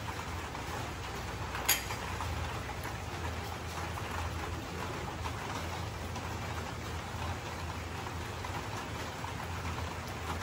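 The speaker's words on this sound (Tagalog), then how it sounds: "Tapos umuulan pa." Steady evening rain falls outside a home kitchen, a continuous even hiss of drops on surfaces with one brief faint knock, no voices.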